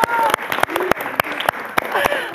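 Clapping from an audience at a stage event, heard as sharp, uneven claps from a small group of people, some close and loud, with murmuring voices beneath.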